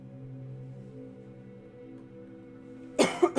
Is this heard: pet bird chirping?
no